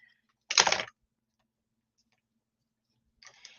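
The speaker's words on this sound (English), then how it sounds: "And now I'm going to trim off with my sticky scissors." Sticky craft scissors trim paper in a short crisp snip, then silence before a quieter second cut starts at the end.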